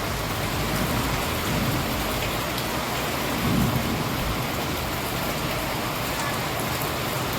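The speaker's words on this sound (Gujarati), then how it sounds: "વીજળીના કડાકા ને ભડાકા સાથે વરસાદ ચાલુ થયો છે અત્યારે" Heavy evening rain in Junagadh, Gujarat, during a thunderstorm with lightning, a dense, loud, continuous downpour with a faint low rumble midway.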